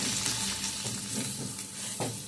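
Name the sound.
frying spice masala with coriander, chilli and turmeric powder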